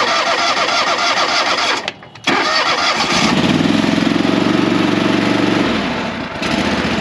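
A Toro mud buggy engine cranks and fires up after a brief pause, then settles into a loud, steady close-range idle with a strong low rumble.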